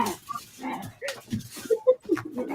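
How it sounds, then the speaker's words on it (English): A dog whimpers and yips in short bursts, a few high whines and a small bark close by, loud and alone. "That's my dog."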